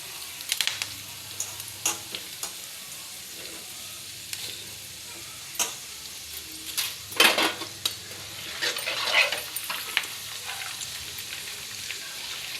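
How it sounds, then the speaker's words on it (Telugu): Split black gram and other tempering frying in hot oil with ginger pieces for pulihora, soft steady sizzling under intermittent stirring and clinks of a spoon against the pan, close by. "పోపు కూడా ఫ్రై చేసుకుందాం"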